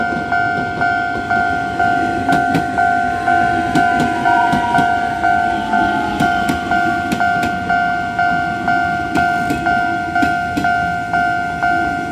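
A Nishitetsu limited express train at Futsukaichi station rumbles steadily through the whole stretch, with two sustained tonal lines running alongside it and regular clattering beats from the wheels.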